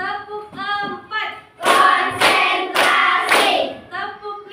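A school class claps hands together in a counting clap chant, with bursts of sharp group claps in quick rhythmic runs between a teacher's spoken calls and the children's chanted replies.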